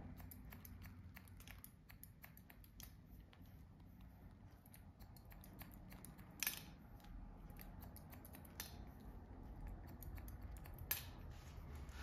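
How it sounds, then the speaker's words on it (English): Scissors snip through a small section of hair during a haircut, giving soft, quiet cuts with two sharper snips standing out, over a low steady background hum. "I'm taking an extra little section here to cut"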